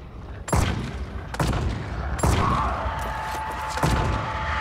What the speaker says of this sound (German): Und hier schießen wir dann. Einmal mit dem Finger.